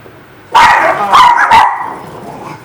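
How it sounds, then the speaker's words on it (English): Dogs bark in a home kitchen: three sharp, loud barks close by in quick succession, trailing into a faint whimper-like tail. "Of course, there's the dogs."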